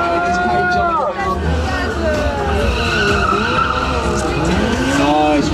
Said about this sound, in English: Nice wicked drift in there.